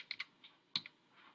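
A computer keyboard tapped in short bursts, a few crisp close clicks with brief pauses between them, alone and fairly quiet.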